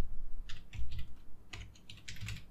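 Fingers type on a computer keyboard in short irregular bursts of clicky keystrokes, close and moderately quiet, with no talking.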